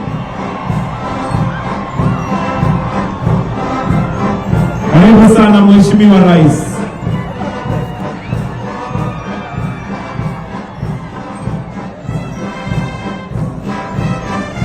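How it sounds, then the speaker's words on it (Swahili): A crowd at Labour Day celebrations in Uhuru Gardens cheering, shouting and ululating to welcome President Ruto, a loud sustained roar with a sharp swell of high ululation in the middle and a speaker's voice over it. "Kwa makofi, shangwe na vigelegele."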